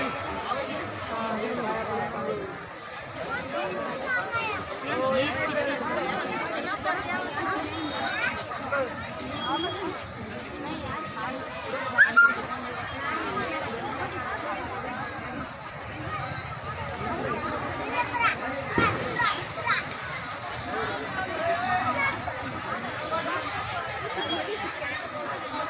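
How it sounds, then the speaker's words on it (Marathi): A large crowd of devotees fills a village temple compound for Mahashivratri, a steady dense babble of many voices near and far with occasional louder calls, continuous throughout. "आजूबाजूच्या गावातील नागरिकांनी या मंदिर परिसरात दर्शनासाठी मोठी गर्दी केली होती"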